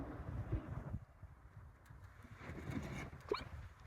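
A dog barks and whimpers faintly outdoors in Paro, Bhutan, with a couple of brief yips over a low wind-like background.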